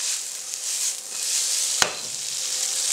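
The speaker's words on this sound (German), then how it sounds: "Auf jeden Fall auch kräftig mit anbraten." Tofu frying hard in a pan for a vegan wild rice and shiitake stir-fry, a steady close sizzle throughout with one sharp clack of a utensil near the middle.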